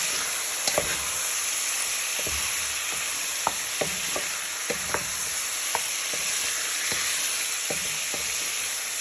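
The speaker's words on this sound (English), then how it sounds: "Shake it all up into the pan. Give that a little bit of a stir in." Chicken pieces coated in smoked paprika fry loudly in a pan under a steady hiss, while a spoon clacks and scrapes at irregular intervals close by, with no one talking.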